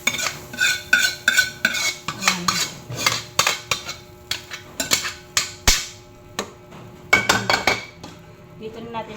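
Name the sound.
stirring sautéed mung bean stew in a cooking pot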